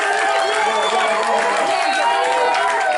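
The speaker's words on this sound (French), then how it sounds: "faire une salve d'acclamation pour notre docteur Mbezele" An audience cheers and applauds for Doctor Mbezele at his thesis defense, a dense continuous roar of voices and clapping filling the room, loud and sustained throughout.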